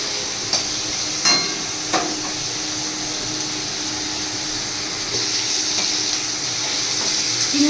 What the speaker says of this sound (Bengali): চিংড়ি মাছটা ভেজে নিই